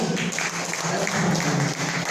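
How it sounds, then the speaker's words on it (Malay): Audience applause at an evening political talk held in Indera Mahkota, Kuantan: a steady, moderately loud wash of clapping that holds evenly for about two seconds. "Tepuk tangan"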